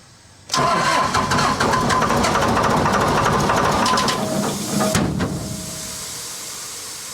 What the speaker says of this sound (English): What not to do to start your diesel motor.